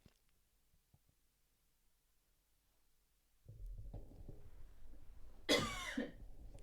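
Near silence, then a low background rumble comes in, and a single sharp cough bursts out loudly near the end.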